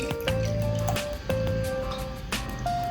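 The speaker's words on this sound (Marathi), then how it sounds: "मी हा जो ब्रश आहे हा क्लिन्झिंग क्लिन्झरच्या पाण्यात बुडवून घेते" Wet squishing and sloshing of liquid up close as a makeup brush is swished in cleanser water, in repeated strokes about once a second, with small drips and clicks between them.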